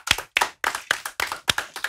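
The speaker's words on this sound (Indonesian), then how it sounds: "Tepuk tangan teman-teman" Audience clapping in unison at an Indonesian talk event, eight sharp claps in a steady, even rhythm, close and crisp with brief silences between them.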